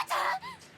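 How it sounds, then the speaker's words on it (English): A single short, harsh cough from a character in the horror game Corpse Party: Book of Shadows, a rough burst followed by a quieter second hack, close and alone with no talk. "Rich, hack, cough."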